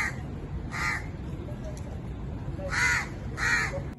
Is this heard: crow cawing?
yes